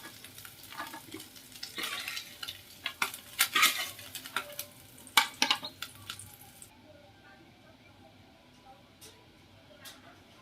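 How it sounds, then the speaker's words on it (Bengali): Chopped garlic and onion go into hot frying oil after small fish, giving bursts of sizzle with utensil clinks and stirring for several seconds before the sizzle fades to a faint hiss; a voice talks over parts of it. "তেলের মধ্যে এবারে দিয়ে দিচ্ছি কেটে রাখা রসুন, দিয়ে দিচ্ছি পেঁয়াজ কুচি,"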